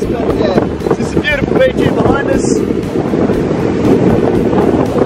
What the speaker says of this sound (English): It's a bit windy today, so sorry about that noise guys